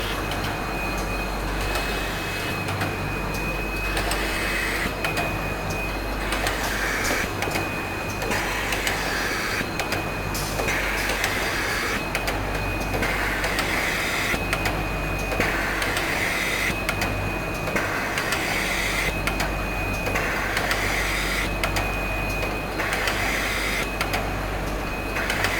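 An FBN-01S cotton bud making machine runs continuously, a loud, close mechanical drone with a rapid repeating clatter and a steady high whine, unbroken by voices.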